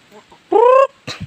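A hen lets out one loud, drawn-out call, with a few soft clucks just before and a short burst of clucking right after.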